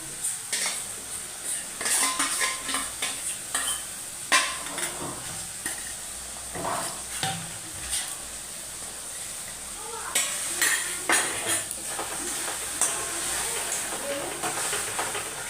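Whisked sour yogurt is stirred into a spice paste frying in oil for a bottle gourd and prawn dish. A metal spoon clatters and scrapes against the pan in repeated strokes over a steady sizzle.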